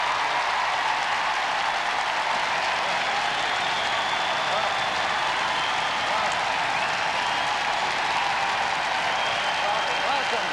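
Audience applause and cheering at the 1998 Eurovision Song Contest as a British broadcasting legend is greeted, a dense, steady crowd roar with clapping and a faint voice underneath throughout.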